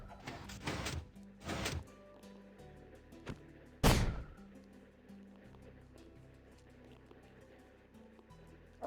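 Minecraft explosions from fast-moving objects blowing up on impact: three sharp, booming bursts, the loudest a little before the middle, then a low, quiet game hum with small ticks.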